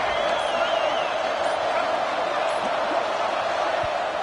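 Dense roar of a college football stadium crowd urging on the home defense during a red zone stand, a steady wall of loud, continuous cheering with whistling tones above it.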